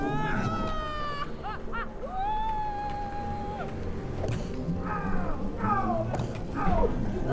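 Cat meows from a video game, several drawn-out and rising calls spread across the stretch, loud and close over steady game background noise.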